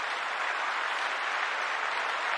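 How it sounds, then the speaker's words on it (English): An audience applauds steadily and continuously throughout, a dense wash of clapping with no pauses, heard at moderate distance without talk over it. "Oh wait, I have real applause."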